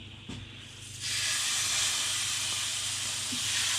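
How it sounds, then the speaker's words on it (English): Burgers in oil in a non-stick pan give off a loud, steady sizzle that swells after a soft start, a continuous close hiss with a few faint knocks. "That's the sizzle we want."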